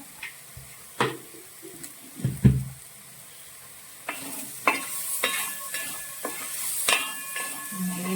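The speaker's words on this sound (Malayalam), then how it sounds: "പഞ്ചസാരയും കൂടി നന്നായിട്ടൊന്ന് വഴണ്ടു വരട്ടെ" Banana and sugar sautéing in a pan while a spoon stirs them, with soft sizzling under irregular scraping and knocking strokes that come close and clear, a few sharper clanks among them.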